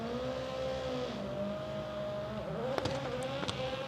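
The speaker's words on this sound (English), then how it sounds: "Slightly different engine note from the Hyundai this year." Hyundai rallycross car at Höljes, Sweden, its engine holding a sustained droning note that dips and shifts, with sharp crackling pops breaking in near the end.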